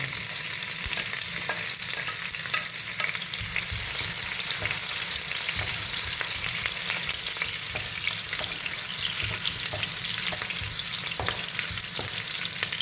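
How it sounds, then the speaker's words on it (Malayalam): Cumin seeds and green chillies frying in hot oil give a steady, close sizzle with scattered small pops and crackles, continuous and alone without any talk. "നമുക്ക് അര ടീസ്പൂൺ ജീരകം ഇടാം കേട്ടോ നല്ലോണം ഒന്ന് പൊട്ടട്ടെ കേട്ടോ"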